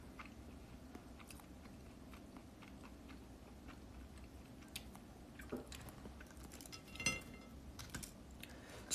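Crispy fried chicken is eaten up close, with soft crunching bites and chewing that come as irregular clicks and crackles, growing a little louder and denser toward the end.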